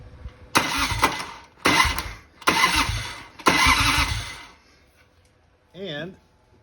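A 1993 Harley-Davidson FLHTC motorcycle engine cranks in four loud, rough bursts of about a second each, separated by short pauses, followed by a brief wavering tonal sound near the end.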